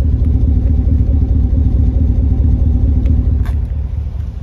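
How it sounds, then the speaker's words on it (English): A 2016 Chevy 1500 LT pickup with the 5.3L V8 idles close by, its exhaust giving a steady, deep low rumble with no talk over it. "The other great thing about the Chevys is they have a great little exhaust tone."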